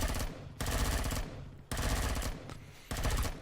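Gunfire while shooting enemies in the Empyrion space survival video game, long bursts of rapid automatic fire in close, loud blocks separated by brief pauses.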